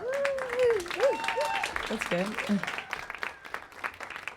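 Audience clapping during an interview about an album of covers, scattered applause running under a speaking voice throughout.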